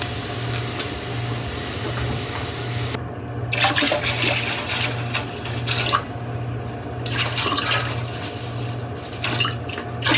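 Tap water running steadily into a canner pot holding pint jars, a loud continuous rushing splash that shifts in tone as the pot fills, with a low hum underneath and no voices.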